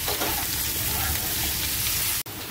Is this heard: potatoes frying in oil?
yes